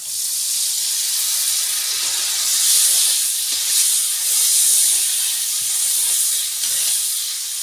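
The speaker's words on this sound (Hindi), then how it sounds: "अब डाल रहे पानी इसके अंदर।" Water poured into a hot pan of spiced potatoes and masala for aloo methi sabji bursts into a loud, continuous hiss of steam that swells and fades slightly over several seconds, close up with no talking.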